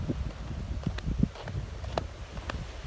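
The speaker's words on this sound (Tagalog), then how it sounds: "Ang ganda ng hangin." Wind blowing on Daeijak Island in South Korea, a low steady rumble of gusts buffeting the microphone with faint rustling, no one speaking.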